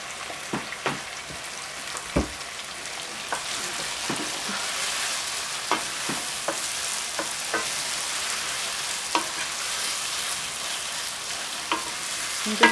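Saltfish sizzles and fries steadily in a pan, a dense crackling hiss with scattered louder pops and spits across the whole stretch, no voices over it.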